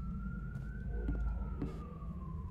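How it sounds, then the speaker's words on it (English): An emergency vehicle siren wails outside, a steady sliding tone rising and falling at moderate distance over low traffic rumble, with a few brief clicks. "those stupid ass siren outside"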